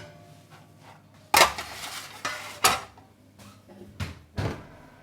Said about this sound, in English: we carefully pull our little bread cubes out of the oven